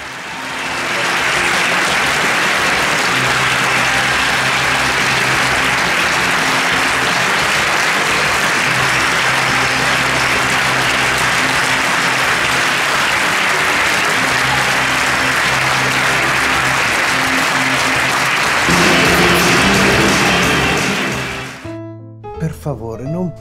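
Warm, sustained audience applause at the close of a theatre performance in Verona, a dense steady roar of clapping lasting about twenty seconds before fading and cutting off.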